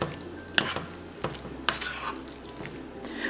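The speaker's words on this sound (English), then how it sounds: "And you give that all a stir." Canadian bacon being stirred in a frying pan, a background sizzle broken by several sharp utensil scrapes and clinks against the pan, close up, no talk.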